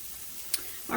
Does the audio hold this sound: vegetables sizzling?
yes